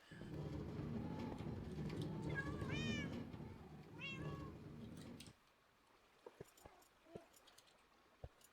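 Cats in a video game give several clear, drawn-out meows over a low background drone. The drone cuts out, leaving a few sharp clicks and taps in near silence.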